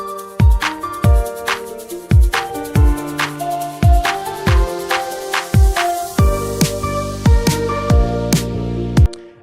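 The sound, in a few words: guitar melody coming into the track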